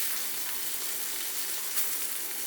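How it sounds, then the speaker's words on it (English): Tomahawk steak fat searing on a hot surface gives a steady, close, even sizzle that hisses without a break and with no voices. "Then we're just going to get a nice sear on all that fat on the outside."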